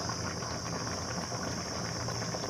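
Vegetables boiling in a pot while being stirred, including pointed gourd, sweet potato and ridge gourd, giving a continuous dense bubbling hiss with a steady high whine, close and even throughout.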